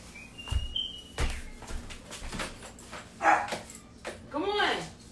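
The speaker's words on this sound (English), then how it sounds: "Why my baby barking?" A dog barks and yips in scattered short bursts indoors, several sharp barks and a whimpering rise near the end, heard amid people talking in the room.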